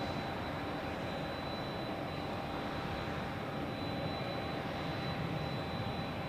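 A Delta airliner departs Zurich Airport, its jet engine roar a steady, broad rumble heard from a distance that holds level throughout without fading.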